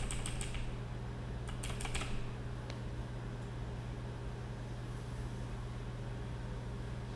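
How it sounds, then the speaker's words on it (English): Computer keyboard typing during game engine programming: two short bursts of quick keystrokes early on, faint and close over a steady low electrical hum, then only the hum. "Any different sounding keyboard might be due to the mic position and the kind of mic and stuff"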